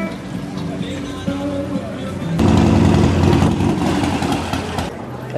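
Motorcycles idle at a downtown Friday street event in the Vero Beach and Sebastian area, a steady engine rumble that swells louder midway and holds, with voices chattering around it.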